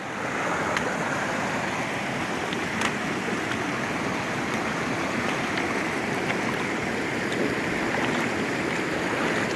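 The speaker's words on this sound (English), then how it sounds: "we're going to have to cross Reed Creek right here." Cold early-April water of Reed Creek rushes steadily as it is crossed on foot, a continuous broadband flowing-stream roar close by with no talking.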